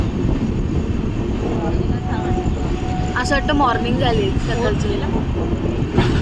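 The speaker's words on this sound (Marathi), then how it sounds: "समोरून ती लोकल ट्रेन येते" A Mumbai local train rolls into a station on a trip from Mumbai toward Solapur, its steady rumble and a brief tonal squeal sounding over a constant platform din while someone talks throughout.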